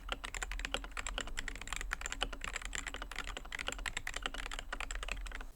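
Rapid, steady keystrokes clatter on a K7 36 Pro 90% mechanical keyboard with a numpad, a dense, close stream of crisp clicks continuing without pause and no voices.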